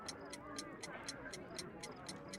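Steady, even ticking from a homemade alarm-clock time bomb with bell and hammer in a video game, close and clear over a soft background hum.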